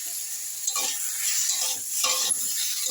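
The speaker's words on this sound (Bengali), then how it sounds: "পেঁপেটাও একটু নেড়ে নেব" Papaya pieces are stirred into frying lentils in a pan, giving a bright continuous sizzle with scraping spatula strokes repeated every second or so, close and clear with no voices.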